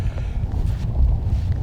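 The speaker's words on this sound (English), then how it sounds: "Super windy as well." Strong wind buffets the microphone at a snowy outdoor disc golf tournament, a loud, low, continuous roar with gusty swells and no talk.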